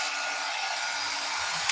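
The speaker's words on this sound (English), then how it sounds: "my hair dryer, and then blow it out" A hair dryer blows steadily over alcohol inks, a loud broadband rush of air close by, with faint handling noise near the end.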